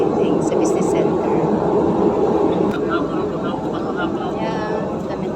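MRT commuter train riding toward North Avenue in Quezon City, a loud continuous rumble and rail roar from inside the carriage with brief higher squeaks, steady throughout.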